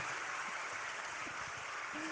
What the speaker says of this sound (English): Everybody give it a round of applause for Oscar.